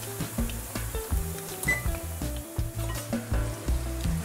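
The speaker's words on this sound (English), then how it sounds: "while the eggplant is frying" Steady sizzling of eggplant frying in a pan over medium-high heat, with scattered clinks and scraping sounds from utensils throughout.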